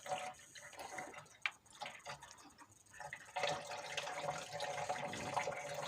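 Liquid dripping and trickling from a leaking coolant reservoir jar on a Golf 4 1.4 16v, faint irregular drips early, then a steadier running trickle with clicks, close by and without voices.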